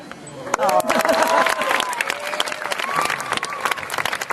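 A crowd applauds at a sea lion show at Pleasurewood Hills, a dense patter of clapping that stays steady throughout, while voices talk and call out over it.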